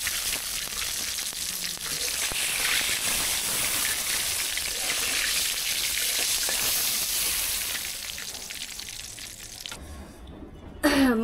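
Hot oil sizzles steadily in a pan while pangas fish fries, a dense crackling hiss that carries on for about ten seconds, then drops away before a brief clatter near the end.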